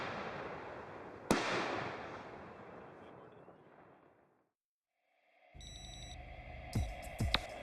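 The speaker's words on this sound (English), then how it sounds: "this nice little stacked effect of the real fireworks going off" Fireworks burst with a sharp bang followed by a long fading crackle and hiss, then after a short silence a denser layered barrage of pops and whistles rises.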